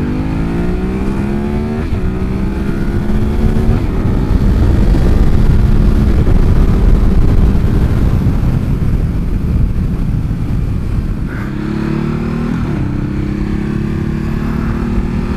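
A Ducati Hypermotard 939 SP ridden in small circles, its engine droning steadily and loudly nearby with a few revs rising and falling in pitch as the throttle changes.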